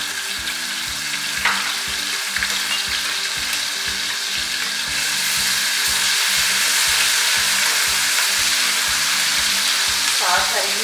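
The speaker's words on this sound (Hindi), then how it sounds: "अब इसमें लहसुन की पेस्ट डाल देते हैं," Garlic-ginger paste frying in oil with golden browned onions in a cooking pot, a dense steady sizzle close by, with occasional stirring scrapes and a slight rise in intensity partway through.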